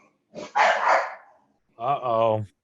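A dog barks twice in a studio setting, a rough, noisy bark followed after a pause by a longer, tonal, yelping bark, both fairly close and loud with no talk over them.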